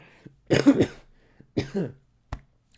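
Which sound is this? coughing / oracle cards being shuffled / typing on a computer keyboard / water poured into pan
coughing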